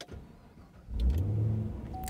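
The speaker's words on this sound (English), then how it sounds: "Let's start it and see what happens." A 2013 Chevrolet Camaro ZL1 with a freshly reflashed engine controller, already warm, cranks and fires up midway through, then settles into a deep, rumbling idle close by.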